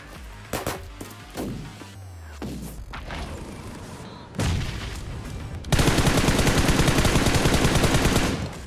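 Gunfight in the mobile battle royale game BGMI during a solo ranked match: scattered single shots and bursts early on, then sustained dense automatic fire that grows louder and continuous toward the end.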